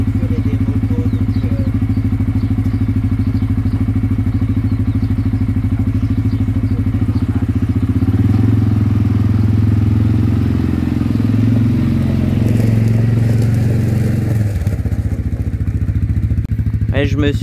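A quad bike's engine runs continuously up close, a dense low rumble that swells and climbs in pitch partway through, with clattering knocks and faint voices in the background.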